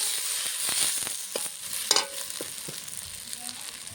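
A utensil scrapes and stirs potatoes and vegetables in a hot pan, with a steady sizzle of frying underneath and a few louder knocks.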